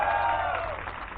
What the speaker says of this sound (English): Yes, you can clap louder if you want.